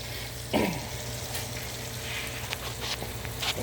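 Butter sizzles steadily in a frying pan at a home stovetop while fish and shrimp are being fried, with a sharper burst of crackle as it first hits the heat and a constant hiss afterward.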